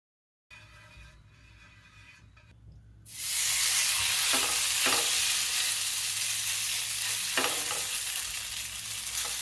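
Batter for a Chinese vegetable pancake hits a hot pan and sizzles loudly and steadily after a few quiet seconds, with a couple of soft scraping stirs, close by and without talk.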